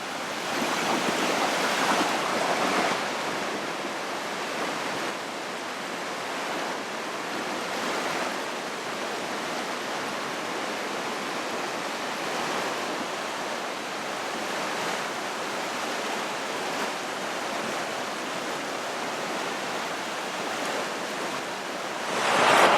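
Steady, loud rushing of fast-moving, high-water Sutter Creek, a continuous broadband roar without pause from start to finish.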